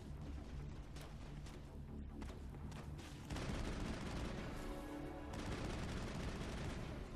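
Assault rifle fire in the video game Mass Effect, dense rapid shots and rattling bursts with a heavier louder stretch midway, continuous and close.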